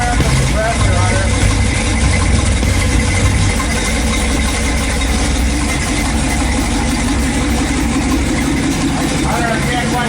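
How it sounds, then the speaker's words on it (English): A classic truck's air compressor runs steadily and loudly throughout, a constant mechanical drone mixed with wind noise outdoors. "We gotta fire up the compressor on her."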